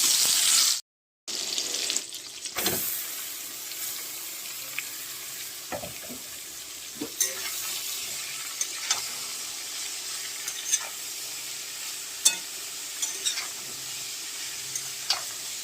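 Grated papaya frying in a pan with chopped tomato and chili, a steady close sizzle punctuated by scattered scraping stir strokes and small clinks, with a brief dropout near the start.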